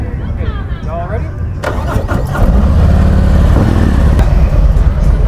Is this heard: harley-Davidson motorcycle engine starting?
yes